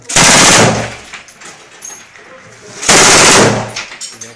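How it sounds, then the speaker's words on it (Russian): A commander's gun firing at a position in the war in Ukraine near Donetsk, two loud bursts of automatic fire about two and a half seconds apart, each echoing and decaying into a rumbling outdoor background. "Это наш командир стреляет."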